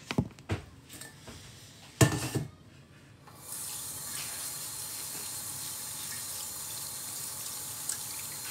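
Tap water runs steadily into a sink while mucumusukkai herb leaves are rinsed, starting after a few handling knocks and clatters, then a continuous close gushing flow.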